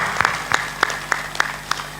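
An audience at a spiritual discourse claps in steady, evenly spaced claps that stand out over a continuous hiss of background noise, with no talk over it.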